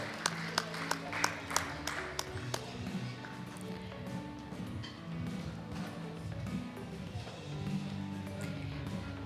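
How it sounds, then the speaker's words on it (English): Scattered audience applause at an award ceremony during a conference event, opening with sharp distinct claps that soften into a quieter patter beneath a speaker's amplified voice and background music. "And keep those applauses coming"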